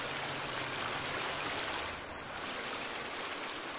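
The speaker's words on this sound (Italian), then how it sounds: "Una fottuta cascata" A waterfall in the survival game The Forest roars as a steady, loud broadband rush of falling water, dipping briefly midway and then continuing unbroken, with no talking.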